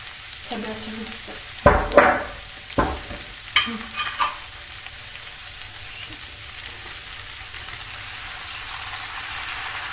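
Potato filling with tomato sauce being stirred in a pan, with a few clattering, scraping strokes of the spoon early on over a faint sizzle, then quieter sizzling alone.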